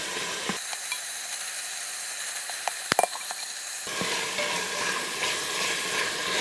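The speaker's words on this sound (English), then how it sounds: "I'm turning all the pieces over so that all the sides get browned." Lamb pieces browning in a hot pan give a steady broadband sizzle throughout, with a few sharp scrapes and clicks as the pieces are turned partway through.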